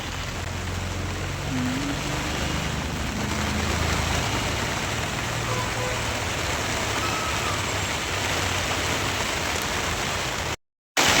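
Steady heavy rain pours down over an outdoor village market, a dense continuous hiss with low rumble underneath and no voices, cutting out briefly near the end.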